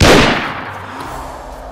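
A single loud gunshot in DayZ, a sharp close crack at the start with a rumbling tail fading over about a second and a half.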